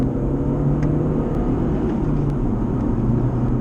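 Engine of a 180bhp VW Golf GTI revving hard on a narrow, winding country road, a steady loud drone with rising and falling revs heard from inside the car, continuous throughout with no talking.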